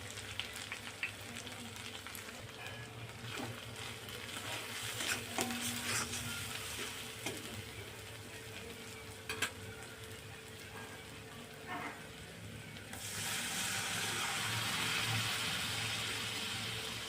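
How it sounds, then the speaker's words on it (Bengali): Pomfret fish masala with chili and turmeric powder sautés in a pan, a faint steady sizzle with occasional soft stirring clicks, then a brighter, louder hiss near the end as water is added. "একটু জল দিয়ে আবারও ভালো করে কষে নেব"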